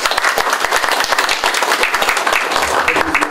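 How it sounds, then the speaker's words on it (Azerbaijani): A hall audience at a cultural event applauds steadily, dense clapping filling the whole stretch at a loud, even level with no voices over it. "sizin alqışlarınız altında Yanar Sönməz bəyi, yəni Güneydən gələn ozanı"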